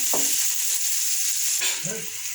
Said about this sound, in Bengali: রসুন পেঁয়াজ ভেজে নেব আগে